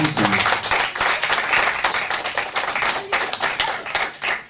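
A church congregation claps and cheers in praise of the Lord, dense sustained applause throughout with voices mixed in and loud bursts near the start.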